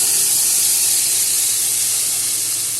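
A water-mixed spice paste of green chilli, ginger, cumin, Kashmiri chilli and turmeric hits a hot pan for a Bengali eggplant curry, giving a loud, steady, close hissing sizzle that holds unbroken for the whole stretch with no voices.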